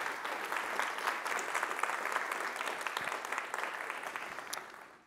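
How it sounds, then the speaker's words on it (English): A conference keynote audience gives a quick round of applause, a dense, steady patter of many hands clapping at moderate volume for about five seconds, tapering slightly at the end. "maybe a quick round of applause for putting together"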